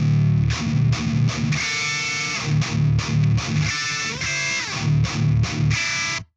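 Cranked, heavily distorted electric guitar played through a Celestion V30 speaker cab, loud chugging riffs with rhythmic palm-muted stops and sustained chords, no voices.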